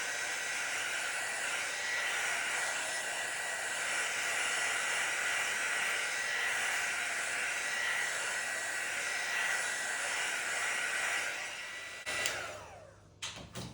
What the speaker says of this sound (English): I'll just hit it with the heat embossing tool one more time